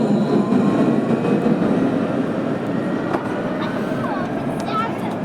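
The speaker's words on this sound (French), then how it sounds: "il y a le tram qui arrive qui vous amènera vers Monson" A Montpellier TAM line 3 tram arrives at the Gambetta Chaptal station, a steady broadband rumble of wheels and motor at close range with faint high squeals, while background voices talk over it.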